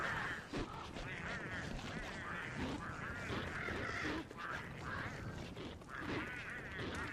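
Penguins squawking and honking in the survival game Don't Starve: Reign of Giants, a dense, continuous chorus of duck-like calls filling the whole stretch with steady loudness.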